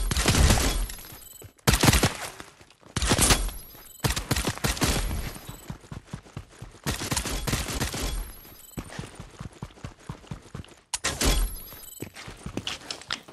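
Rapid bursts of video-game gunfire crackle loud and close in long repeated volleys, with brief gaps between strings of shots and no talking.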